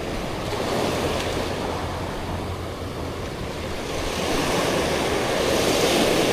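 Ocean waves at high tide roll and wash steadily against the shore, a loud, continuous surf roar with some wind buffeting, rising slightly toward the end.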